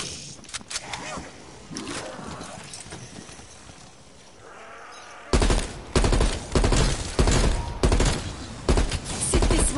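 Video game gunfire on a PS4 erupts in dense, loud bursts of rapid shots during the second half, following a stretch of quieter mixed game sounds and background noise.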